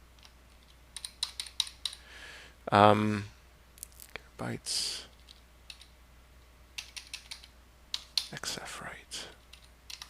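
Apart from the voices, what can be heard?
typing on a computer keyboard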